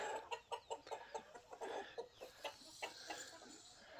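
Rhode Island Red and Wyandotte chickens clucking close by, a series of short soft clucks in irregular bursts with quieter gaps between them.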